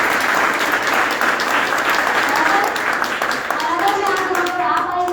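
Sustained audience applause fills a seminar hall, dense steady clapping from many hands throughout, with a voice speaking over it near the end.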